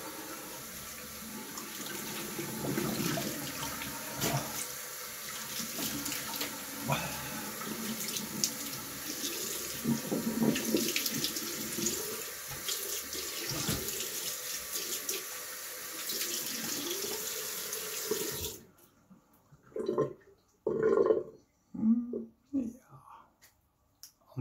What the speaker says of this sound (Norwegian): Så skal jeg skylle ansiktet skikkelig med iskaldt vann for å lukke korene